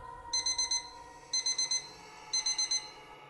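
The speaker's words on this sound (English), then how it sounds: "she woke up to the sound of an alarm" An electronic alarm beeps in three bursts of rapid high-pitched tones, four beeps each, separated by short pauses, clear and fairly close.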